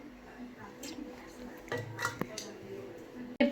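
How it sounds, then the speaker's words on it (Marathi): Chicken is mixed with yogurt, turmeric, red chili and coriander powder in a pot, producing soft squishing stirs and scattered spoon clinks against metal, fairly close and quiet, ending in a louder clatter. "सगळं छान मिक्स करून घ्या."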